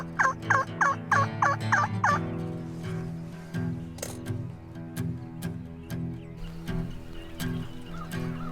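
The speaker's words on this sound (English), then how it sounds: "we got turkeys all around us, so the setup is looking good" Wild turkeys gobbling nearby in a quick burst of several loud rattling gobbles, followed by softer distant calls and clicks in the open air.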